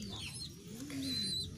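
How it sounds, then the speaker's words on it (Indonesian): A young homing pigeon, still hand-fed at under a month old, gives soft low cooing calls in two short bursts, close to the microphone, with faint higher chirps from other birds in the background. "Saya dikasih ini burung merpati pos ini"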